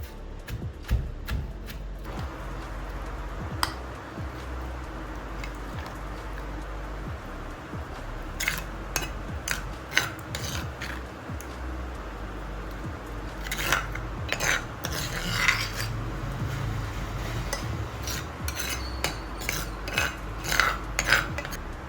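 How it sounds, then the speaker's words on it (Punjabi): Raw green mango is pounded with green chillies and red chilli powder into a chutney, giving repeated hard knocks and clinks at an uneven rhythm, close and distinct over a low background hum. "ਹੁਣ ਇਹਨੂੰ ਆਪਾਂ ਚੰਗੀ ਤਰ੍ਹਾਂ ਰੀਝ ਨਾਲ ਕੁੱਟਣਾ"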